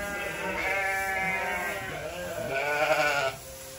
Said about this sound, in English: I am smitten with this breed of sheep